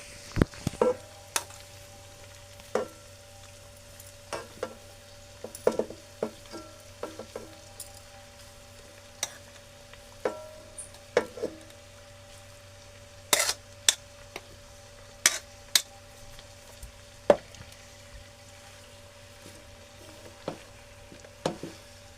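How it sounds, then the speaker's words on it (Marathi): Mixed vegetables sizzle steadily as they fry in a pan. Sharp clinks and scrapes of stirring come through now and then, and no one speaks. "आता याच्यात भाजी टाकते"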